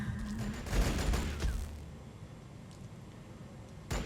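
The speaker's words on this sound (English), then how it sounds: "Taking fire." Rapid gunfire crackles through a battle in the strategy video game Warhammer 40K Battlesector with Necrons, a dense loud burst at first that thins into quieter scattered shots over a steady background rumble.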